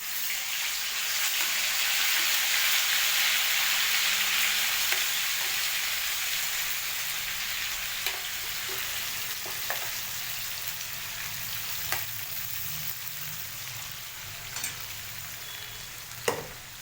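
Ground masala paste fries in hot oil in a pan for paneer and peas curry, a loud sustained sizzle that eases slightly over time, with occasional light clicks of stirring.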